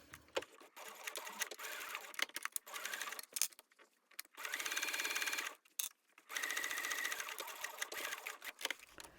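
A sewing machine with a short construction stitch length sews a 3/8 inch seam on a zippered boxy top, running in short, close bursts separated by handling clicks and pauses.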